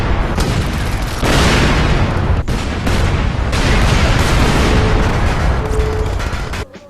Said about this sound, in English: And those means are usually lots of explosions.